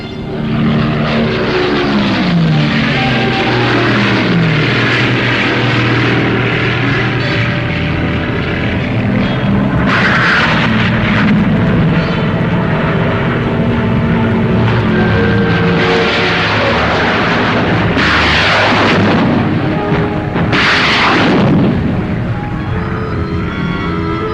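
RAF Typhoon fighter-bombers attack near Falaise, with loud, continuous wartime propeller-engine roar throughout and several sharp, heavy bursts cutting through, with no talking.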